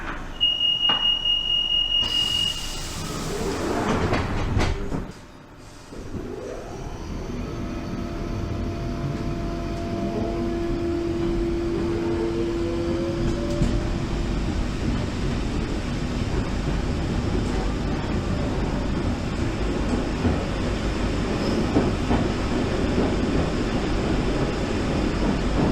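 A London Underground Waterloo City line tube train departs, with a door chime and bang followed by a rising motor whine and steady loud rumble of the carriage gathering speed, heard from inside.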